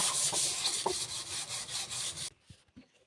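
Steady scratchy rubbing of sandpaper on wood, continuous and close for a couple of seconds, then stopping with a few faint knocks afterward.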